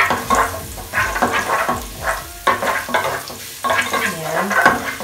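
Garlic sizzling in hot oil in a pan while being stirred, with steady frying hiss and repeated scraping strokes close by; a brief utensil clink near the end.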